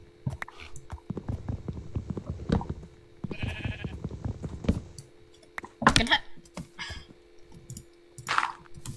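A few short, nasal Minecraft sheep bleats sound between clicks and keyboard-like tapping, with a voice murmuring in places.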